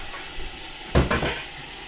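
Pots, pans and utensils are put away in a kitchen while food fries, giving a sharp metallic clatter and knock near the middle over a faint sizzling background.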